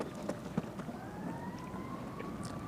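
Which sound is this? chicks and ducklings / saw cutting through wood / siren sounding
siren sounding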